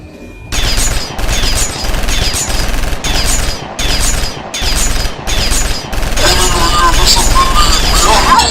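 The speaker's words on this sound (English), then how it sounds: "Aircraft armed and ready to engage. Target locked, you may fire." Aircraft weapons fire at a target in loud, sustained bursts, each lasting about half a second and repeating in a steady rhythm, then blending into a continuous roar of gunfire and impacts.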